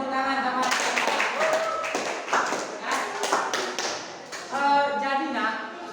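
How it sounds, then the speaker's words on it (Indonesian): Students in a classroom clap their hands in short uneven bursts, close and moderately loud, mixed with a teacher's voice talking over and between the claps. "silakan tepuk tangan sama."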